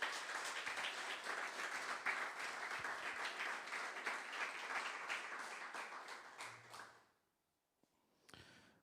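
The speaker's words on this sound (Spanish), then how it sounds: "Den una ofrenda de aplauso al Señor." Congregation at a church sermon applauding together, a long sustained burst of many hands clapping that fades out near the end, followed by near silence and a brief sound.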